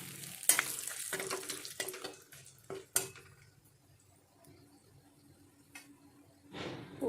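Whole spices, cinnamon, cloves, cardamom and bay leaves, fry in hot oil in a pan, with sharp crackles and clinks from a spoon stirring early on, then a soft sizzle that swells again at the end.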